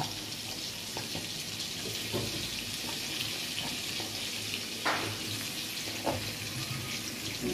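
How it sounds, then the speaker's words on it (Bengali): Spiced potatoes fry in a pan with a steady, fairly loud hiss and crackle running throughout, punctuated by a few brief clinks of utensil against the pan. "খুবই অল্প একটু ভেজে নিলেই এটা হবে,"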